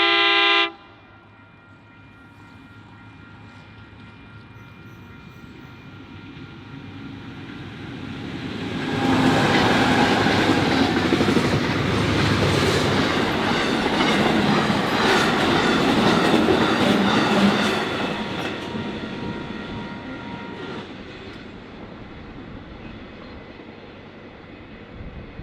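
A long intermodal freight train hauled by two locomotives approaches and thunders past, swelling to a loud roar of wheels and rattling wagons before fading away, with a brief horn toot at the start.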